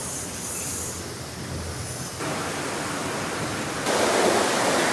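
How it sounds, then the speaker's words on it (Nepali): Murky water flows steadily at Chhabdi Barahi temple, a continuous broadband rush with no voices that swells noticeably louder toward the end. "यो पानी तपाईले बगेको देखिराख्नु भएको छ।"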